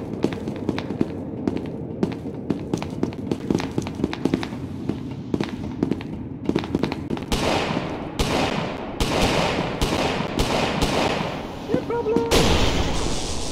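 Chaotic video-game gunfire in an SCP game, dense bursts of rapid shots and booming blasts that build in loudness over the span, with a voice faintly present beneath the barrage.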